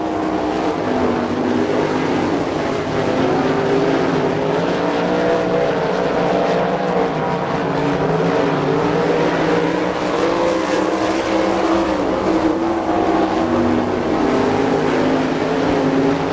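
Sprint cars on the final lap of an All Star Circuit of Champions race at Attica, Ohio, in 1999, a loud continuous roar of engines revving and droning as the pack circles the track, steady throughout with no break.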